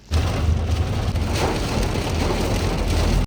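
Heavy rain pours down in a steady, loud, broadband wash with low rumbling underneath, continuing evenly without a break.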